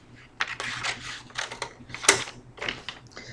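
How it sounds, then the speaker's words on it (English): Paper being cut for a book cover gives a series of short crisp cutting and rustling sounds, close and fairly quiet, with one sharper snap near the middle. "So here we make another cut finally."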